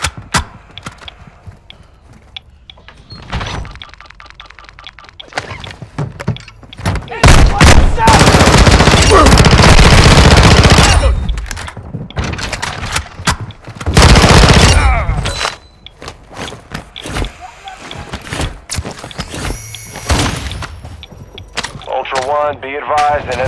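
A gunfight in Call of Duty with bursts of machine gun fire, a long loud stretch of heavy shooting in the middle plus scattered single shots and clatter, with voices in between.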